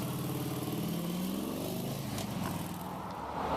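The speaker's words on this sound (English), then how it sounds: "we saw an LAPD motorcycle driving by" An LAPD police motorcycle riding by on a street in Sherman Oaks, Los Angeles, its mid-pitched engine revving steadily beneath loud, constant traffic noise.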